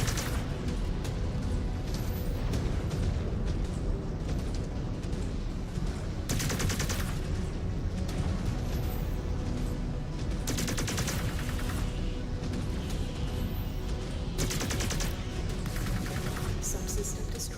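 Mech weapons hammer a gunship's hull in Mechwarrior 5: Clans, a dense, continuous barrage of gunfire and blasts with sharper bursts rising every few seconds throughout.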